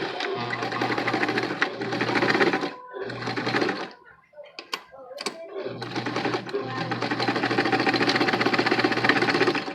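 Sewing machine stitching an ear warmer headband for nurses, running in long steady bursts with a short pause midway broken by a few clicks as the machine backstitches.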